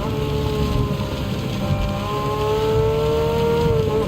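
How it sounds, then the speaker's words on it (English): Steady rain in the racing game Gran Turismo 7, its constant hiss running under a car's droning engine tone throughout, continuous and fairly loud with no talking. "Rain seems to be getting a bit heavier now."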